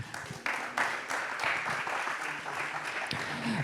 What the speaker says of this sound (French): Sous vos applaudissements, mesdames, messieurs